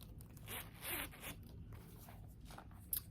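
Zipper running along a new lilac Radley London bovine leather handbag, a few quick close rasping pulls, quiet and alone.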